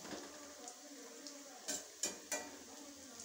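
Cauliflower pieces deep-frying in enough oil to submerge them, a soft steady sizzle with a few sharp clinks of a utensil against the pan, close by and without speech.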